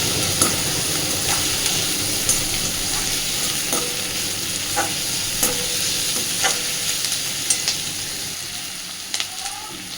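Onion and garlic fry in a pan, a steady dense sizzle with occasional stirring scrapes and clicks over about ten seconds, no talking.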